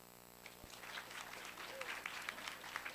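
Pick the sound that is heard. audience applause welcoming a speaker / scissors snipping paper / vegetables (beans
audience applause welcoming a speaker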